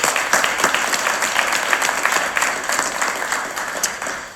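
Loud, close applause from the crowd at a CEO talk, a dense stream of rapid overlapping claps that keeps going and fades a little toward the end.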